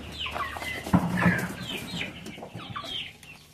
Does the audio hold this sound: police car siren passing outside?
no